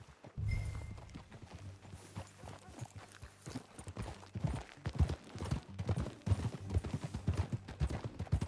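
Horse hooves gallop at a quick, steady clip-clop in the video game Red Dead Redemption 2, close and prominent, with no one speaking.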